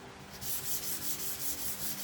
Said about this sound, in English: I'll show you close up what I'm talking about here after I sand it a little bit.